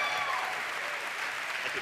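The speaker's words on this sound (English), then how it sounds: "Everybody give them a round of applause." Steady applause from an audience at a BlizzCon 2011 gaming convention panel fills the whole stretch, a dense wash of clapping at moderate volume with no pauses.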